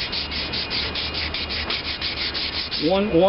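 Hand sanding with sandpaper on a Maytag Model 72 stand being prepared for paint, a steady, close rhythmic scraping of repeated strokes, with no talk over it.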